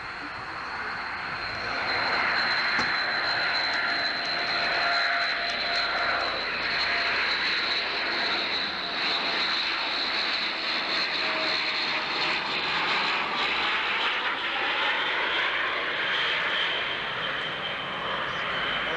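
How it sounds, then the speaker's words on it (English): Vickers Viscount turboprop airliner engines at Manchester Airport, a steady loud drone with a high whine held throughout, rising slightly midway, no talk. "That's the Vickers Viscount, or BAC Viscount."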